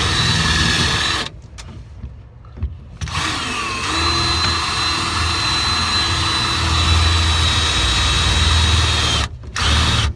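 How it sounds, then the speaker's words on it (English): Power drill boring through a cabinet, a loud sustained close whine that cuts out briefly twice, with a pitch that shifts as the bit works into the wood. There is no talk. "And then you just drill away."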